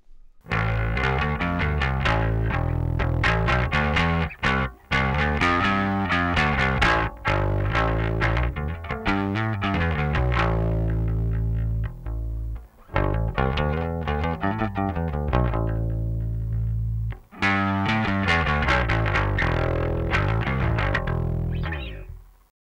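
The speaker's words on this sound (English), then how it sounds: "So what I want to have is a good distortion pedal who can offer a basic sound" A bass guitar plays a riff through an Alpha Omicron distortion pedal, gritty and loud, with buzzing sustained notes and a few brief pauses between phrases.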